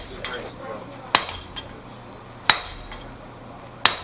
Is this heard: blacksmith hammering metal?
yes